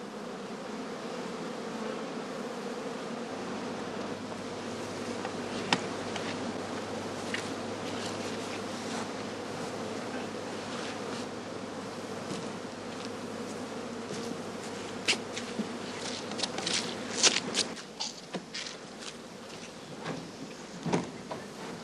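Bees swarm around straw skeps at an apiary in a continuous near buzzing drone, with scattered louder passes of individual insects and a few faint knocks and scrapes, no voices.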